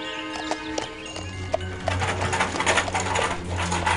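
Rhythmic hoof clip-clops from a horse in the game Master of Olympus: Zeus, steady and mid-distance, over a low game-music drone with occasional small clicks.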